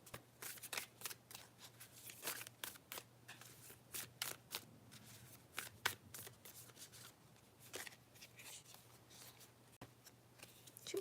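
Oracle cards shuffled by hand in a quiet room, a steady run of soft papery riffles and flicks, close and fairly faint, with no talking.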